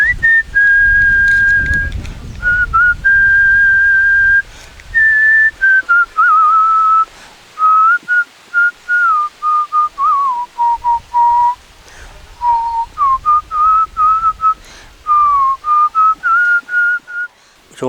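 A man from Orcha, Kasaragod whistles a melodic song tune solo, clear and close, in phrases separated by short breath pauses, with no talking.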